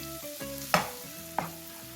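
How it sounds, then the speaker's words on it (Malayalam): Butter and maida flour are stirred in a pan over a low flame to start a white sauce for lasagna. A low steady hum sits under two sharp knocks of a spoon against the pan, close and quiet. "നന്നായി ഫ്ലെയിം കുറച്ച ശേഷം 3 ടേബിൾ സ്പൂൺ മൈദ മാവിട്ട് ഇളക്കി കൊടുക്കാം"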